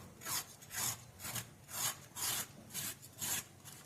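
Rhythmic strokes of a peeler or knife scraping the ridges off a ridge gourd (dodka), about seven evenly spaced rasping passes, close and fairly quiet, with no talk.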